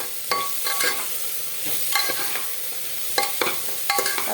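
Potatoes and spices, including dried and green chilli, turmeric and chilli powder with salt, get stirred in a pot for vegetarian khichuri: a soft sizzle under sharp metallic scrapes and taps of the spoon in short bursts, close by.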